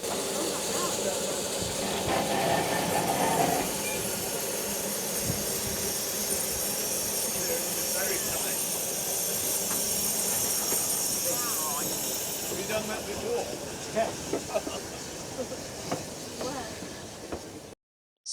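Narrow-gauge NG15 steam locomotive number 134 on the Ffestiniog & Welsh Highland Railways, passing in a jubilee cavalcade: a steady, loud hiss of steam over a low mechanical rumble lasting throughout, with voices talking over it.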